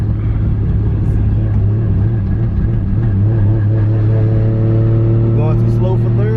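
The engine of a JZ-swapped Lexus SC400, a 700+ horsepower build, rumbles loud and steady from inside the car as it pulls away and shifts, its pitch rising and falling, with people talking over it.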